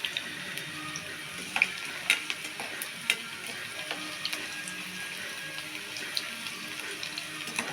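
Cauliflower pakoda pieces fry in hot oil, making a faint, continuous bubbling sizzle dotted with small crackles and pops.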